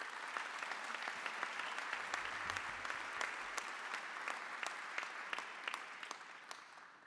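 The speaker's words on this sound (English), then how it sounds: "let's give an applause for all of our graduates" An audience at a George Brown College convocation applauds its graduates, a faint, steady spread of clapping from a large crowd, with a few sharp individual claps standing out.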